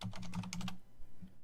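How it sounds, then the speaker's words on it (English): Quick clattering keystrokes on a computer keyboard while selecting and typing folder names, a dense burst of taps for most of a second, then a pause and one last soft tap, close and alone. "selecting and typing that has to occur."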